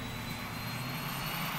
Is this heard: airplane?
yes